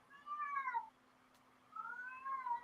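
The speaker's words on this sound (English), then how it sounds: "Can you hear my cat?" Two drawn-out meows from an elderly female cat, about 18 years old, indoors at home, each call sliding downward and separated by a short quiet gap, fairly close and alone without talk.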